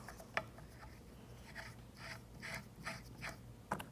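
A thumb screw being turned into a TracRac G2 truck rail on a 2012 Ford F-150, a few faint scraping and ratcheting clicks with two sharper taps, close but quiet over a low background hum.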